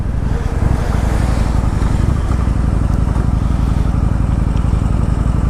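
A Kawasaki Vulcan 900 motorcycle rumbles steadily while being ridden, its low engine drone loud and constant throughout with road and wind noise layered on top, no talking.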